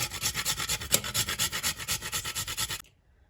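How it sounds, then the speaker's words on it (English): Whole nutmeg is grated by hand over a bowl, making quick, even rasping strokes, about seven per second, close and crisp, ending after roughly three seconds. "I'm going to grate in a 1/4 teaspoon of nutmeg,"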